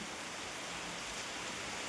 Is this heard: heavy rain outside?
yes